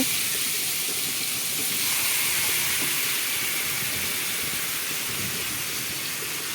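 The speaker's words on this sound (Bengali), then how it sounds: "এখন খাসির মাংসটাকে বসিয়ে দেওয়া হলো" Marinated mutton cooks in a pot with a continuous soft hiss and bubbling sizzle, steady and close, with no voices.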